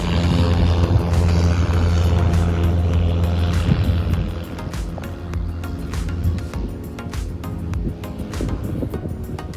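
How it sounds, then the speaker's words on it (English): A propeller tow plane drones loudly as it takes off towing a glider, its engine steady at first and then gradually fading and growing rougher as it moves away, with no speech. "So the tow plane is getting into position, taking out the slack. It's coming up now."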